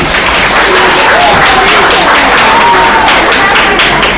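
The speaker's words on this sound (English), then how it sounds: "can we give her a great big round of applause, please?" A school assembly crowd claps loudly and continuously for a teacher presenting her first assembly, with a few cheers and voices rising through the dense applause.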